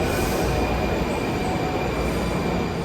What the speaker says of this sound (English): we're going to grab a subway back into the city